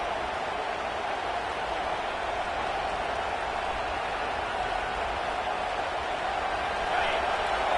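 A packed LSU college football stadium crowd roars late in the fourth quarter as the defense faces a fourth down, a dense, distant, sustained wall of noise that swells slightly near the end.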